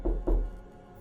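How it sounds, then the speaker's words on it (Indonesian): Two dull, low knocks on a door land close together, then trail off into quiet room tone. "Kedengar suara ketukan pintu."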